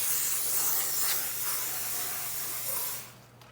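A powerful steamer hisses steadily against dirty, grease-stained car seatbelts, a loud continuous spray of steam that cuts off abruptly near the end, leaving a faint quiet tail.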